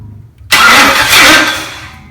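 A 1946 Chevy truck fitted with an LS 5.3 engine cranks and catches after a brief quiet pause, bursting into a loud, close, rough running roar that holds steady and then eases slightly.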